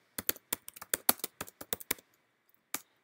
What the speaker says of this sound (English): let's begin by typing the student's name